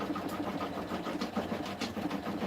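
A sewing machine stitches out quilting for a background, a fast, even mechanical whirring and tapping running continuously at low volume with a slightly uneven pulsing rhythm.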